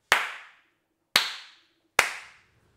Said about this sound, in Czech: Tohle ten dozvuk je vlastně reverb, protože ten zvuk, když já tlesknu, tak ještě chvíli doznívá